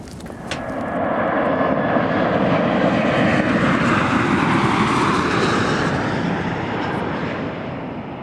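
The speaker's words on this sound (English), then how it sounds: "Tell me what you think of that airplane." A steady, loud engine roar of an airplane fills the whole stretch, a broad rushing drone with no voices.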